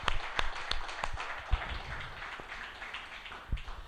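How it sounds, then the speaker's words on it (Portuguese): A church congregation claps in praise, scattered sharp hand claps over a soft, roomy wash of applause, fairly faint and without voices. "aplaude ao Senhor Jesus."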